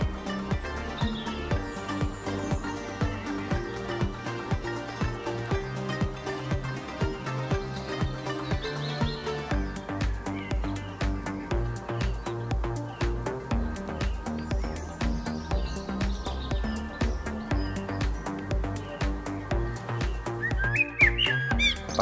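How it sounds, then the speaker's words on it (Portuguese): Great spotted woodpecker calls, with scattered sharp chirps and whistles over a steady, droning musical background, fairly faint and continuous without talk. "O pica-pau malhado é um membro da família dos pica-pais."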